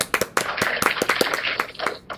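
A round of applause from boys and girls at a school assembly: quick, dense clapping from a group, steady for a couple of seconds, fairly close.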